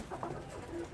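Doves cooing in a backyard coop where chicks and roosters are kept, soft low calls rising briefly through a steady murmur of background noise.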